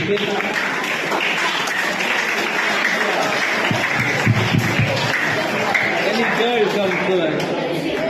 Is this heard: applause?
yes